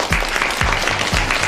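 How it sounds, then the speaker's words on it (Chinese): An audience gives a short burst of even, dense clapping, close and loud, with some low rhythmic thumps underneath. "大家鼓掌"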